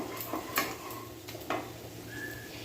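A ground spice paste is stirred into hot oil with onion, ginger and garlic: a few soft scrapes and light clinks of a spoon against the pan over a faint, low sizzle, close by and quiet.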